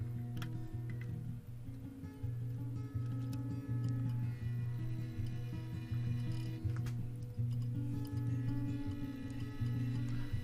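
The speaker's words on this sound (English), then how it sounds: "The clicking sound you hear is my" A Digitrax DT602D model train throttle gives off faint, sporadic clicks over a steady low mechanical hum on a layout during switching operations.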